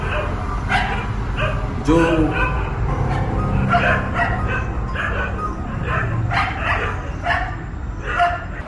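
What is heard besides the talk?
dogs barking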